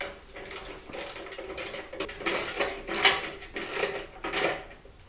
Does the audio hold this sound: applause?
no